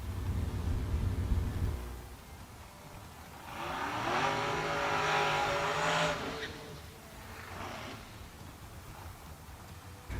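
A race car drives past on a racetrack, its engine rising to a loud, raspy roar for a few seconds before fading away, with a low rumble beforehand.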